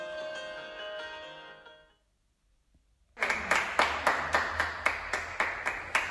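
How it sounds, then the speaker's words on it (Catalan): A crowd claps at an end-of-school-year farewell, the clapping starting abruptly after a music passage fades out and a short silence, then swelling in near, dense bursts that rise and fall rhythmically. "la millor manera d'acabar aquest curs tan especial com turbulent és aplaudint"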